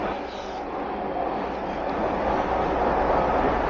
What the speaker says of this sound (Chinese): 对面的车倒是又来了一辆